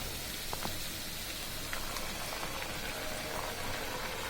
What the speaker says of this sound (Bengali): এবার আমি কচু শাকগুলো দিয়ে দিচ্ছি।